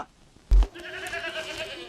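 A single sheep bleat, wavering and fairly close, begins after a sharp thump and carries on with a faint background hum.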